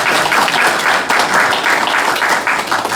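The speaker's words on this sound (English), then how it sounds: "let's do a round of applause" Applause from an audience at a regular session of a mayor and council, welcoming a new administrative assistant; steady, fairly loud clapping from many hands fills the full three seconds without pause.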